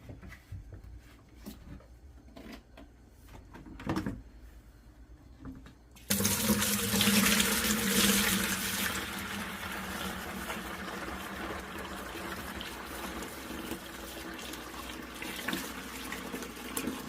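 Quiet handling noises, then a sudden rush of cream ale homebrew beer pouring steadily and loudly, continuing with a splashing, gushing flow until the end.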